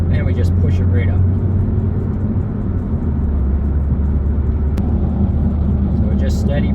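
A car accelerates onto a highway during a driving road test in Lower Sackville, Nova Scotia, with a steady in-cabin engine and road drone that holds throughout and a faint voice speaking over it.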